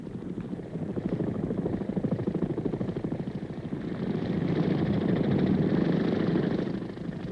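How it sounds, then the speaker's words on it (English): Big CH-46 military Marine helicopter with a steady rumbling engine and rhythmic rotor pulsing, holding a fairly close, loud drone throughout that swells slightly toward the end. "the big CH-46 helicopters that bring in the ammunition, food, and water"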